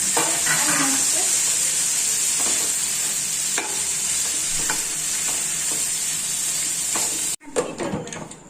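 Fried onions and tomatoes for paneer butter masala are stirred in a hot pan, making a loud continuous sizzle with periodic spoon scrapes, before the sizzle cuts off abruptly near the end and a few clatters follow.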